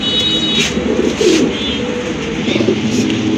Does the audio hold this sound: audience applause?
no